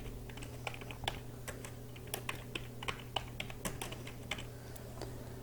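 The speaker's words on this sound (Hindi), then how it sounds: "यहाँ पर हम टाइप करते हैं हैप्पी बर्थडे।" Typing on a computer keyboard: a steady, quiet run of close key clicks at an uneven pace over a low constant hum, with no voices.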